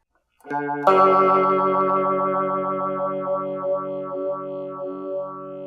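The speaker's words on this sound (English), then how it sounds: "we can hear the pronounced phase effect" A sustained guitar chord rings out through a phaser pedal, its tone sweeping up and down in a slow, rhythmic whooshing pattern as it fades.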